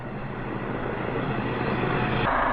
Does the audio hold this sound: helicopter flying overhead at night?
yes